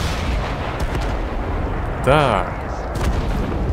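Artillery fire in the war game Total Conflict: Resistance, booming continuously in a loud wash of blasts, with a sharper burst near the middle and a voice speaking briefly over it.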